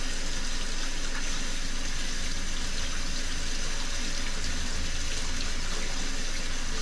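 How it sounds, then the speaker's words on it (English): Hot water gushing from a tap in a steady, loud, unbroken stream, close by and alone with no talk. "I'm just running straight hot water"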